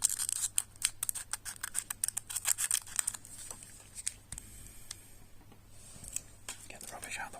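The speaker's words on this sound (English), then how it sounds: "trusty safety scissors" Safety scissors snip open Magic: The Gathering booster packs close to the microphone in a quiet room, with a quick series of crisp cuts and crinkly wrapper scratches, followed by softer rustling.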